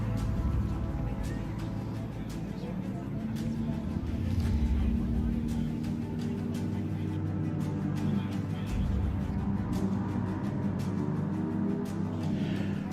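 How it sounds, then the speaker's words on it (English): A Can-Am UTV race car launches off the start line at a Hammers Championship qualifying event, engine roaring steadily with a broad rumble while a commentator talks over it. "right now we just had the 4046 of Christopher Branton take off on the line"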